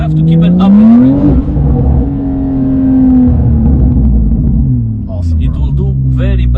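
A Porsche 992 Carrera 4S engine with aftermarket exhaust revs up in first gear and holds high, its pitch rising and sliding, loud and close, with a voice talking briefly near the end.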